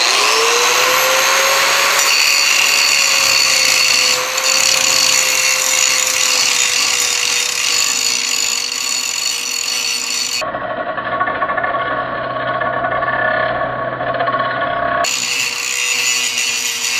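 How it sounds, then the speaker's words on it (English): An angle grinder works down a weld for a homestead repair, giving a loud, continuous high whine close by that shifts in pitch as it bites, with a brief tone change partway and no talking. "All right, just gonna grind this out."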